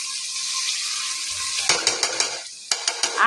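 Tomato puree added to hot oil and potato gravy in a pan for garlicky Gujarati potatoes: a steady sizzle gives way to louder crackling and spattering, punctuated by a few close clinks of a spoon against the pan, with no voices.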